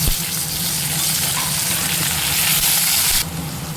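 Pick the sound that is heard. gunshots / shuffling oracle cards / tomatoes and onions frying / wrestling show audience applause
tomatoes and onions frying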